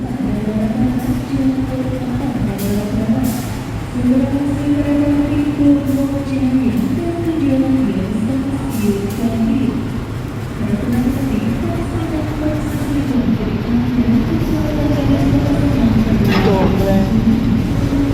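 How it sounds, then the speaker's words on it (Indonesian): A locomotive coupling to the Serayu train's carriages: rumbling train and rail noise with metallic clanks and scrapes, plus a few sharp impacts, continuous and fairly loud throughout. "kita lihat dulu yuk lokomotif Serayunya mau tempel ke rangkaiannya"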